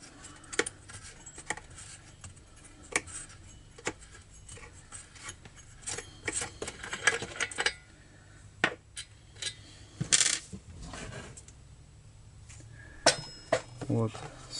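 Metallic clicks, ratcheting and scraping of a wrench unscrewing a threaded part come in irregular bursts, close up, while servicing a grass trimmer with a failed oil seal that is losing its seal.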